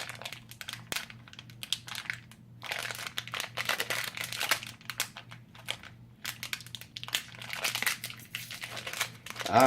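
Plastic packaging of a Retro Pop Box being pried open, with repeated bursts of close crinkling, crunching and crumpling broken by brief pauses over a low steady hum.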